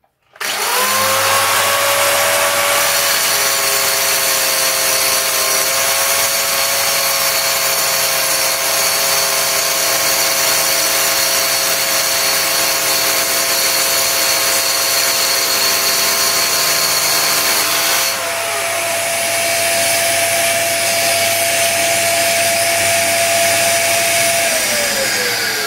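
Parkside PTS 710 A2 plunge saw cutting ceramic tiles with a vacuum cleaner attached, a loud steady high whine that runs continuously, its pitch dropping slightly partway through as the blade bites, with no talk over it.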